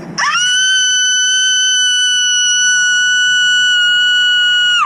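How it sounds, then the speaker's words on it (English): A woman screeching at a skater, one long sustained shrill scream that rises sharply, holds at a piercing, very loud pitch for nearly five seconds and then cuts off abruptly. "This Karen got mad at this dude skating and starts screeching."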